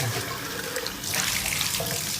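Water runs from a tap while a sink drain part is rinsed of gunk, a steady close splashing rush that swells louder about halfway through, with no talking.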